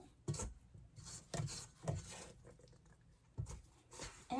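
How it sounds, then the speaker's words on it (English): A spatula scrapes around the sides of a bowl of chocolate chip cookie dough in a series of short, close rasping strokes with brief pauses between them, no voices. "We're going to scrape the sides just to make sure all the flour is incorporated."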